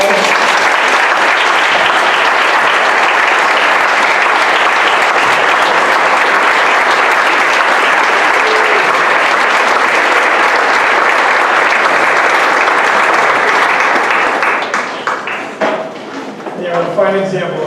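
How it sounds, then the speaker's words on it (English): A large crowd applauds loudly and steadily, the clapping tapering off near the end as a voice begins speaking. "Can we just give them one more round of applause?"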